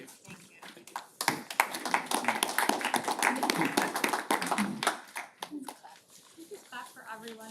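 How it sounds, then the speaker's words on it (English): Board meeting attendees clap together in a room for a few seconds, a burst of close, scattered handclaps that swells and then thins out, with voices talking around and after it. "Clap for everyone, so nice."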